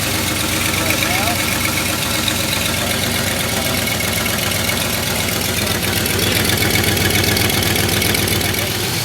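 A 1971 Ford F250 pickup engine idles with an exhaust leak, giving a steady, close rumbling idle with a rapid ticking puff that continues evenly from start to finish.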